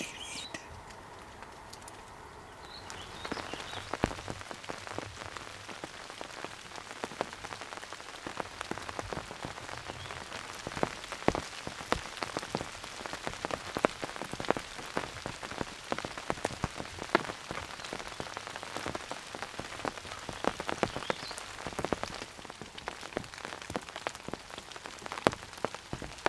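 Rain patters steadily on a surface outdoors in Kansas, a dense crackle of drops that grows louder after the first few seconds and continues throughout.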